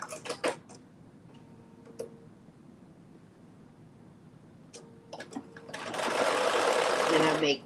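A sewing machine stitches back and forth over fabric while a waistband is sewn, with short bursts of stitching, a pause filled with faint ticks and clicks, then a longer, louder run of close, rapid stitching.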